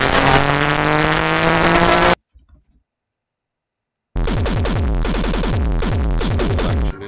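A very loud car engine revs hard for about two seconds with a harmonic roar, cuts to near silence, then roars again under heavy throttle for the last three seconds.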